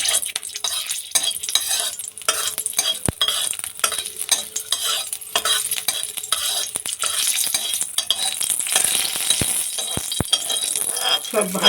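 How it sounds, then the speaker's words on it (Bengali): A green chili frying with coriander leaves in a pan gives a loud, continuous sizzle with frequent scraping and clattering of a spatula against the metal. "একটা কাঁচা লঙ্কা ভেজে নেবো"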